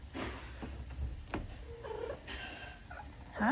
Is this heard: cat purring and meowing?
yes